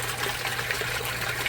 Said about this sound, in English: as you can see all that water coming out of the grow bed automatically